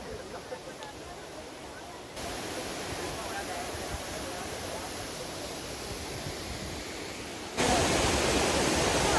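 Water spilling down Galboda waterfall in Sri Lanka, a steady broadband roar that grows louder toward the end as spray drifts close by.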